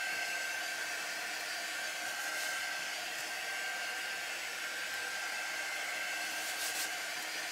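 A hair dryer blows steadily and fairly loudly on a painted holiday craft stencil piece, a constant close whooshing hum with no talking over it.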